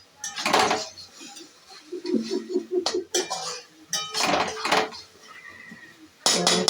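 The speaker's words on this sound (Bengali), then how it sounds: "নেড়ে চেড়ে নিচ্ছি।" A spoon stirs a spice mixture in a cooking pan, with bursts of metallic clanks and scraping against the pan and quieter stretches in between, close and fairly loud.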